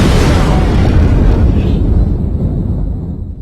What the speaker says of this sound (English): The Kestrel just took a missile hit.